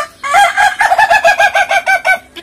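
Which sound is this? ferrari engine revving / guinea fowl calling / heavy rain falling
guinea fowl calling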